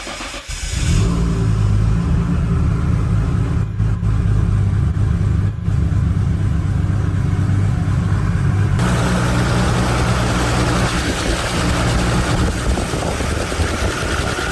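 A car engine fitted with a rebuilt Greddy T78 turbo and a muffler silencer cranks and fires after a second of quiet, then settles into a loud, steady idle close by, with a brief change in tone partway through.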